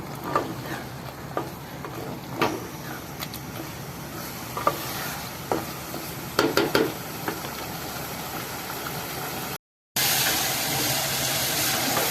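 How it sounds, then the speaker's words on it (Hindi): Potatoes fry in masala in a pan for aloo gobi, a soft continuous sizzle with scattered spoon scrapes and taps, a brief cluster of clinks midway, then a short dropout before the hiss resumes, close and moderate, no voices. "अब अकेले आलू एक दफ़ा हम शामिल करके थोड़े से ना भून लेते हैं"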